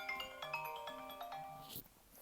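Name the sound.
mobile phone ringing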